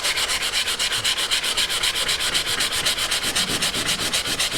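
Oak being sanded with 120-grit sandpaper to strip old lacquer, a steady back-and-forth rasping in even rapid strokes, close and loud with no talking.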